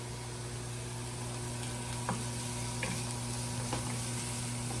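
Onions sweat in a pan with a soft, even sizzle beneath a steady low hum, broken by a few faint ticks.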